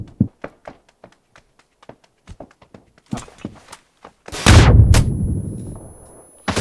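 Scattered taps and thumps, then a loud, booming grenade explosion in the game New State Mobile that rumbles and slowly fades over a couple of seconds.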